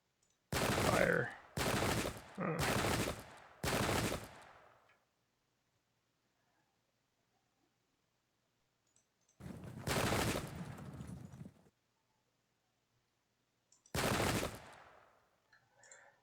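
Musket volleys in the Pike and Shot wargame: a quick run of four loud, close crackling reports, then two more separate bursts after a quiet gap, each with a brief fading tail.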